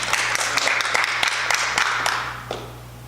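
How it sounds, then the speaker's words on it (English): An audience claps at a marketing talk, a burst of sharp, close, sustained applause that thins out and fades toward the end. "give another round of applause to Doreen."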